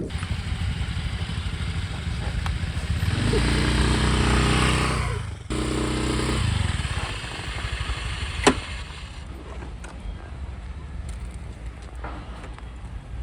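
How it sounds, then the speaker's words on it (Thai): A motorcycle engine drones loudly for several seconds as it rides past close by, then fades, followed by a sharp click and quieter background rumble. "ขับขี่มอเตอร์ไซค์สวมหมวกนิรภัยทุกครั้ง"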